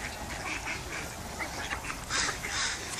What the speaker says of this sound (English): Gee, I think we found a couple ducks.